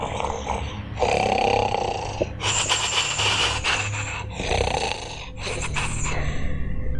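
A storyteller's voice imitates an old witch snoring, with drawn-out rasping, snorting breaths going in and out, loud and close with no other sound.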